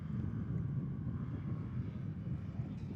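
A STOL airplane comes in to land at a mountain short takeoff and landing competition, its steady engine drone heard at a distance and mixed with broadband wind noise.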